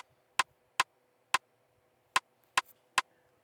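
A sharp rim shot sample in an FL Studio drum groove cracks six times in a sparse, syncopated pattern, each hit crisp and dry with silence between.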